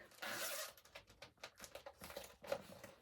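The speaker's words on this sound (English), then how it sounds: "And now I was looking at this case, and when you unzip it, it seems like" A zipper on a cross stitch case is pulled open in a few quick, rasping strokes followed by soft handling rustles, close and fairly quiet with no talking.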